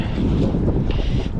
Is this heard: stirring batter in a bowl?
no